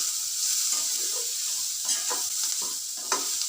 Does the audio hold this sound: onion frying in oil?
yes